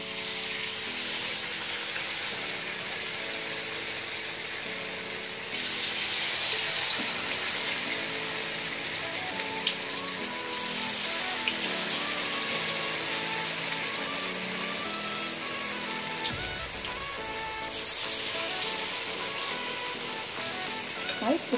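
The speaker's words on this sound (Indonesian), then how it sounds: "Oke, sekarang kita siap menggoreng." Steady, loud sizzling and crackling of bala-bala vegetable fritters deep-frying in hot oil, continuous throughout with occasional clinks and shifts in intensity, no voices.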